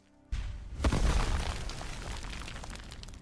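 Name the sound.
explosion in the video game modded Skyrim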